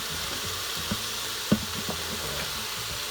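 Chopped regular onion sizzling in a chili pot, a steady hiss broken by a few soft knocks and stirring taps, one slightly louder clunk in the middle.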